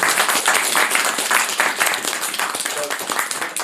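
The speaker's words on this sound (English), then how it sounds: "I think it definitely deserves a round of applause." Sustained applause rises from an audience at a church gathering, a thick, loud wash of many hands clapping that fades slightly toward the end, with no talking over it.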